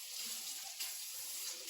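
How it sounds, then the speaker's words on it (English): A kitchen tap runs in a steady, quiet broadband rush while gloves are rinsed under it, with no talk heard. "Just going to rinse off my gloves here."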